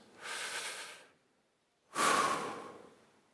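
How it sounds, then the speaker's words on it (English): Two long, deep breaths, each a soft, airy rush, are separated by a second of silence during a guided relaxation exercise at a TechChill 2019 conference talk. The breathing is close and steady, with no talk. "I'm going to ask you all to close your eyes and take a series of 10 really deep breaths"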